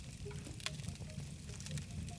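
Food frying in a survival video game, a quiet crackling sizzle with faint scattered pops over a low rumbling background.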